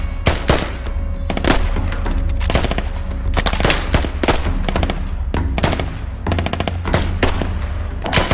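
Gunfire in a military shooter video game, loud rapid bursts of automatic fire and sharp single shots crackling continuously throughout with no talking.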